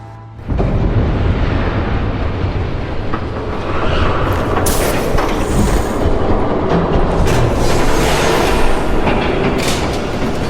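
A train rumbles past in the Batman: The Telltale Series video game, a loud, dense roar that starts abruptly and holds steady for about ten seconds with no voices over it.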